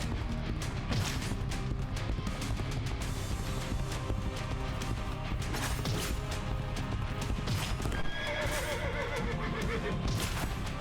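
A horse in a Legacy of Kain video game neighs loudly and gallops, with crashes and thuds over continuous dense game music and effects.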